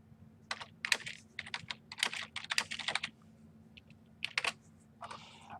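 Keys clatter on a computer keyboard in quick irregular bursts of typing with short pauses between, close by and fairly quiet.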